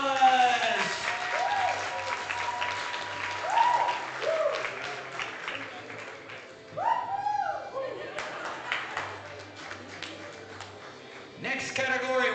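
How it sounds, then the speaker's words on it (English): An audience at a powerlifting championship medal ceremony in the Cayman Islands applauds in steady bursts of clapping, with an announcer speaking over the crowd through a PA. "Once again, big round of applause."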